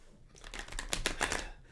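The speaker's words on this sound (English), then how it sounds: "as you can hear me shuffling away here" Tarot cards being shuffled close by, a short continuous burst of riffling and papery flicks that swells in the middle and then fades, no voices over it.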